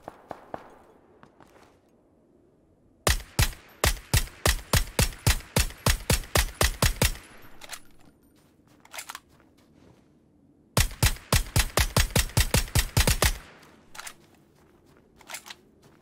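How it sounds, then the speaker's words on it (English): Bursts of gunfire from PUBG, two long rapid volleys of sharp cracking shots separated by quieter stretches with a few scattered single shots, loud and close. "Oh, he's getting shot at now."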